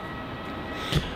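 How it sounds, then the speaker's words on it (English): A passenger jet departs runway 34 at Melbourne Airport, Australia, heading for Auckland, heard as a broad, distant engine roar that swells slightly near the end. "departing off to Auckland, an awesome runway 34 departure"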